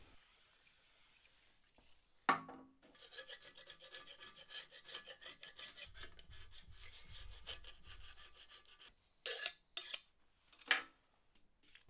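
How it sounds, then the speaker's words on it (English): Scraping and rubbing at tape residue on the face of a Triumph TR7 engine block, rhythmic close-up rasping strokes with a few sharper knocks and pauses between passes. "So I'll just clean off this tape residue."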